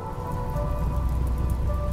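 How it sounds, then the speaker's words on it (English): Steady foggy rain in the video game RimWorld, a dense, even hiss of falling drops that runs unbroken and fairly loud, with no voices over it. "So we got some foggy rain."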